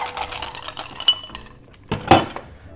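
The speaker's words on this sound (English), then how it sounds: "Add some ice." Ice cubes dropped into a glass for a Moscow Mule made with vodka and fresh lime juice, giving a few clinks and clatters followed by one louder rattle near the end.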